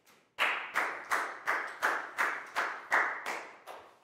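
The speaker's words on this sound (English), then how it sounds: "Big round of applause for Lat Gao, please, guys." Sharp claps from a group of children in a classroom come in an evenly spaced rhythm of about ten beats, fairly soft and with no voices over them.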